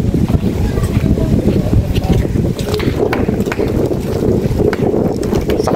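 Strong wind buffets the microphone outdoors near an elementary school, a loud continuous low rumble with gusty roar throughout, and a voice is faintly present.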